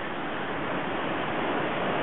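Bear Creek rushing at a trail crossing on the John Muir Trail: a loud, continuous broadband roar of fast-moving water, close and steady, with no voices.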